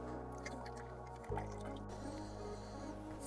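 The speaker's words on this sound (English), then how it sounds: "We're gonna take our sampling glass. Go ahead and pour this over." Quiet liquid dripping and glugging as mead is poured into a small sampling glass, close up and soft against a low background hum.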